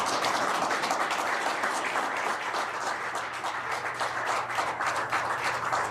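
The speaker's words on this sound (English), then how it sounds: "A round of applause inside the room there" Steady round of applause fills a room in Calgary after the prime minister and the Alberta premier sign an agreement on conditions for a new oil pipeline, dense clapping continuing at even loudness throughout.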